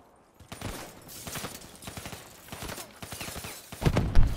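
Rapid bursts of automatic gunfire from Call of Duty: Black Ops III, dense and fairly loud, with volleys rising toward the end.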